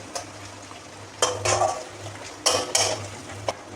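Chili chicken ingredients with chopped garlic being stirred in a pan, several sharp metal spatula scrapes and clanks against the pan over a faint background sizzle, no talking.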